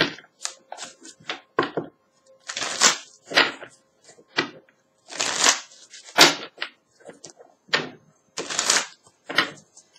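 Repeated bursts of tarot cards being shuffled close up, crisp riffling and slapping in irregular rhythm with short pauses between each shuffle.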